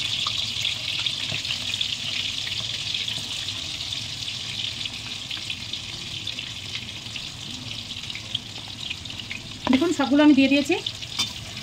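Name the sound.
chicken pakoda frying in oil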